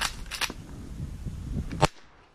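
A sharp, loud shotgun blast during a duck hunt in Minnesota, a single near report that cuts through steady outdoor background noise and is followed by a quick fade.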